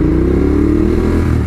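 A motorcycle engine revs during a rev-matched downshift, a close, loud, buzzy mid-pitched drone with a rhythmic pulsing throb, steady over a short burst with no talking.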